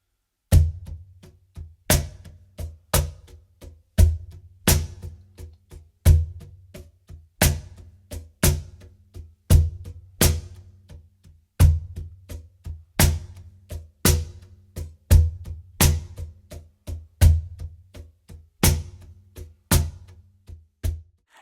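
A cajon groove played very slowly, with deep bass thumps and crisp slap strokes in a steady repeating pattern, accented by left-hand snare hits, close and clear with no talking.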